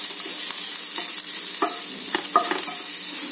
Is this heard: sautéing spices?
yes